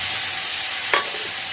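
Hilsa fish head and onions fry in a pan with a steady sizzle, and a single short scrape of stirring cuts in partway through.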